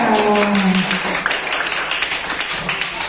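A classroom of students claps for a presenting group, dense, even applause of many hands throughout, moderately loud and close, with a voice briefly heard at the start.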